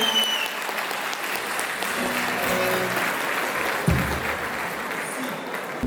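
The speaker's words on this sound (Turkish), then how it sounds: "Güçlü alkışlar gelsin." A concert audience at a solidarity night claps warmly to welcome a singer, a steady wash of close, even applause lasting several seconds with no voices over it.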